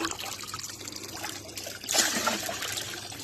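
Water trickling and splashing from a pond filter outdoors, a continuous soft dribble that grows brighter and louder partway through, with no talking.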